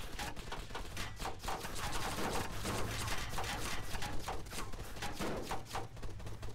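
In the Arma 3 game, rapid bursts of gunfire pound an MRAP MaxxPro armored vehicle: dense, overlapping cracks and thuds that continue steadily throughout, moderately loud, with no speech.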